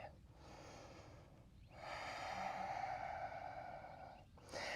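Slow, deep breaths drawn during a yoga stretch for the feet and ankles, a long airy exhale and inhale close to the mic, with a short pause between them.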